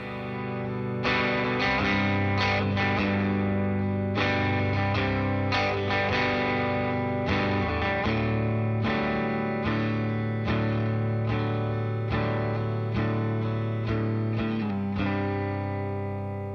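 An overdriven electric guitar, an Epiphone Casino, plays a run of chords and notes through a Vox AC30 amp, with a warm, gritty tone and steady sustain, no voices.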